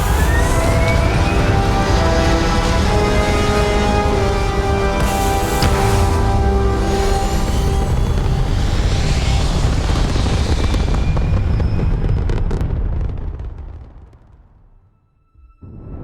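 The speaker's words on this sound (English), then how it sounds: "All thrusters firing." Spaceship thrusters fire in the game Starfield with a loud, broad roaring rumble carrying steady whining tones, holding constant for about twelve seconds before fading out and trailing off near the end.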